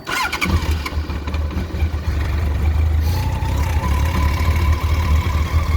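A Honda CBR1100XX motorcycle engine starts with a sputter, then settles into a steady, throbbing idle that runs loud and close for several seconds.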